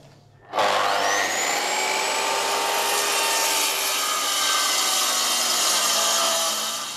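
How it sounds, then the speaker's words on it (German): Hand saw cutting tenons through clamped wooden roof beams, a continuous rasping stroke that starts abruptly and carries on steadily, close and fairly loud. "Dadurch lassen sich die Zapfen in einem Rutsch sägen."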